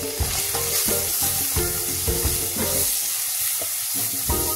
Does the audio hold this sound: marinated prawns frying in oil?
yes